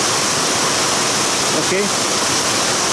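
A heavy rainstorm pours and splashes in a loud, constant hiss, with a brief spoken word partway through.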